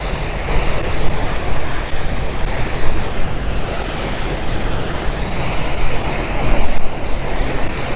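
Ocean surf washes steadily onto a shore along a boulevard in the Philippines, a continuous broadband roar with gusts of wind buffeting the microphone, fairly loud and close with no voices.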